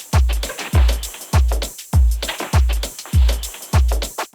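A percussion bed built from film samples, a proper kick drum sample and hi-hat samples repeats in a steady groove: deep booming kicks land about twice a second, with crisp ticking hats and clatter between them, loud and without voices.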